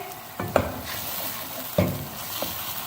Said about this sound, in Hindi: प्याज और टमाटर के पेस्ट को अच्छी तरह फ्राई होने देंगे।